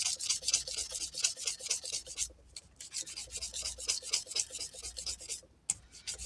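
Fine-grit sandpaper rubbed over a guitar body in quick back-and-forth strokes, a close, rhythmic scratchy rasp with two brief pauses.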